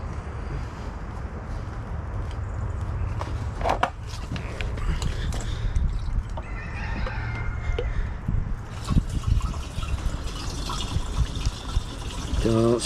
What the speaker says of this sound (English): I'm gonna put a little fuel in this thing and see if we can get it running.